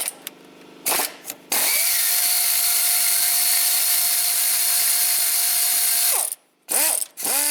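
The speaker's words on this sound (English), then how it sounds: "I get on that one with a ratchet." A ratchet wrench loosens the mounting bolts on a Ford Taurus A/C compressor. Quick clicking bursts open and close the clip, and a long steady mechanical whir with a faint tonal hum runs through the middle.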